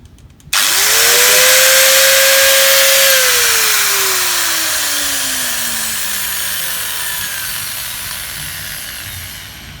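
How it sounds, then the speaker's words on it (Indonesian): A repaired hand angle grinder on 236-volt AC mains switches on and whines at a steady high pitch for a few seconds. Once released, it winds down slowly, its tone sinking as the disc coasts to a stop. "Kita tes untuk gerinda ini apakah dia bisa berfungsi atau tidak."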